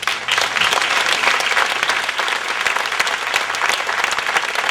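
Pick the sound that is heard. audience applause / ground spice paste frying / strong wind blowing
audience applause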